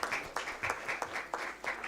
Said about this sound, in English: can I request audience for a huge round of applause for our Nari Shakti panelists